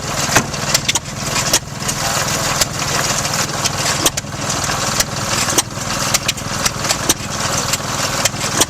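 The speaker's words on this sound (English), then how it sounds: "This vintage wood splitter powered by a rare sandwich engine showcases both old-world charm and raw power." Vintage wood splitter powered by a rare sandwich engine, running loud and close with a steady chugging drone punctuated by sharp, irregular knocks and pops throughout.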